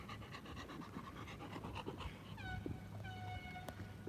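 A dog pants steadily and rapidly close by, quiet rhythmic breaths continuing throughout, with a couple of faint squeaky whines near the end.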